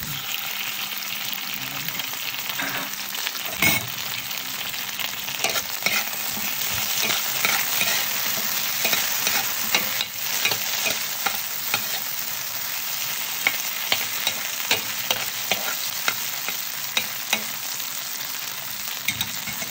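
Dried marinated milkfish frying in a pan, with a dense continuous crackle and sizzle and scattered sharp pops and spatters throughout.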